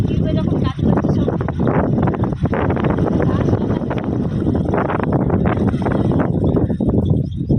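Strong wind buffeting a microphone outdoors in a village, loud continuous rushing gusts while people talk over it.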